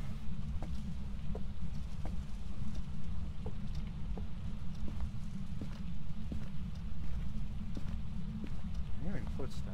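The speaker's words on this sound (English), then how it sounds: "I'm hearing footsteps." In the Phasmophobia ghost-hunting game, a steady run of footsteps taps rhythmically over a heavy low rumble, moderately loud and continuous for the whole stretch.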